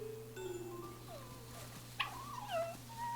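In the video game Infinity Nikki, a fox gives faint dog-like whimpers and a short yelping cry, with gliding whiny tones over a steady background hum of game music.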